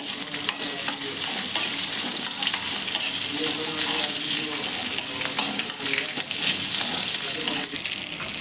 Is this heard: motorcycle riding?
no